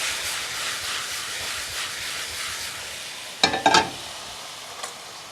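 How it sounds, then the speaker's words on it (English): Mushrooms sizzle in a hot frying pan, giving a steady broadband hiss throughout, joined by a brief cluster of louder crackles and pops near the end; no one speaks. "and then the mushrooms go in. You can hear them sizzling straight away."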